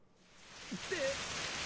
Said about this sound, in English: In less than a minute, the rain turns into a full downpour.